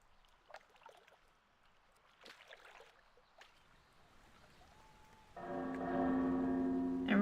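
A bell rung in World of Warcraft's Mists of Pandaria panda starting zone comes in near the end as a loud sustained ringing tone with rich overtones, rising after quieter in-game noises and footsteps.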